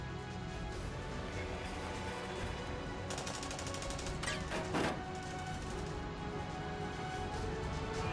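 Gunfire from soldiers chasing the player in the adventure game Secret Files: Tunguska, a run of sharp, rapid shots bunched in the middle over a steady bed of game background noise.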